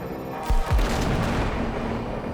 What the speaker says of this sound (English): They exploded!